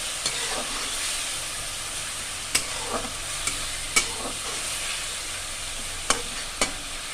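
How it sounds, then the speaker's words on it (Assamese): Ginger garlic paste fries in a pan for a duck meat curry, a steady low sizzle broken by a few sharp clicks and scrapes of a spatula stirring, with no talking. "অলপ টাইম ভাজি লওঁ আদা নহৰু পেষ্টখিনি কেঁচা গোন্ধ যোৱালৈকে"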